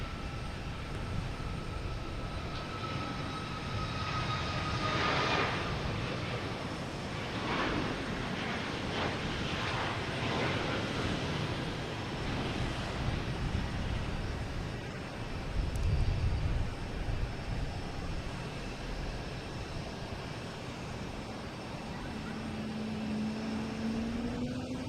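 A United Airlines airliner at Boston Logan gives a long sustained engine roar with rising and falling whines, moderately loud and steady throughout, no voices.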